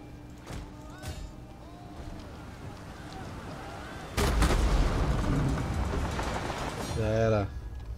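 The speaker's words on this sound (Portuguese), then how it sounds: "Os dois tiros de catapulta o suficiente pra você derrubar o barco inimigo" Catapult shots in the strategy game Total War: Attila during a sea battle, with sharp impacts and a heavy rumbling barrage of booms and crashes, while someone talks over the game audio.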